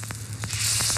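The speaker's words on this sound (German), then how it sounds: "Und dann wir das kurz anbraten." Venison saddle searing in a hot pan, a close, steady sizzle with crackling pops and a low hum underneath, building louder toward the end.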